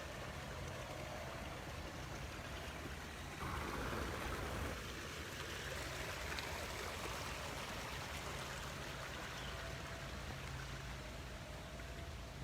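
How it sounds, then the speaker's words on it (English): A babbling brook runs through a wooded garden, its steady broadband rush of flowing water continuous throughout, swelling slightly louder for a moment near the start before settling back to an even trickle. "Stop by the babbling brook."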